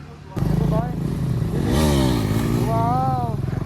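A motorcycle engine on a group ride of four bikes kicks in suddenly and runs loud and close, rising and falling as it revs, with speech mixed over the engine noise.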